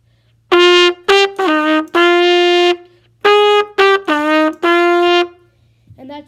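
A theme played on a solo trumpet, two bright phrases of short and held notes separated by a brief pause, loud and close with no talking.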